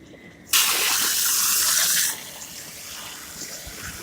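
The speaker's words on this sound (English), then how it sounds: "He's going to spray the water in there." Water gushes from a hose in a strong hissing spray for about a second and a half during a seafood boil, then cuts back to a quieter trickle and background noise.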